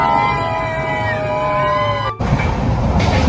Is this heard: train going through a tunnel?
yes